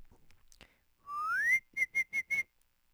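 A person whistles a rising note, then four short, quick whistle blasts at the same pitch, clear and close with no talking.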